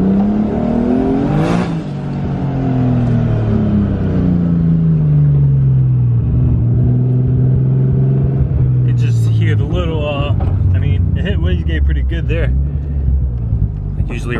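A Nissan 240SX with an RB25 engine revs and pulls on a test drive, its loud engine note sweeping up and down through gear changes, with a voice speaking over the rumble toward the end.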